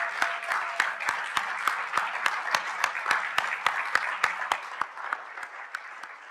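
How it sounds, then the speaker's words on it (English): A conference audience applauds volunteers, a steady, moderately distant round of clapping with individual claps standing out, tapering slightly toward the end. "let's have a big round of applause for our volunteers"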